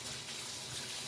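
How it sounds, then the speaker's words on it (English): Tap water running steadily over hands at a kitchen sink, a continuous close hiss of splashing water with no breaks. "Wash my hands."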